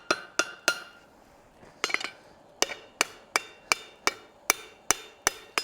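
A hammer forges hot steel on an anvil: sharp, ringing metallic strikes, first a few spaced blows, then a steady rhythmic run of about a dozen evenly timed hits, close and loud.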